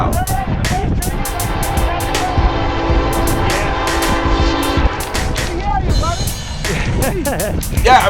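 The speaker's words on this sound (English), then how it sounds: "This train is very loud." A train horn blares in long sustained blasts over rumbling rail noise, with people talking throughout as the train passes nearby.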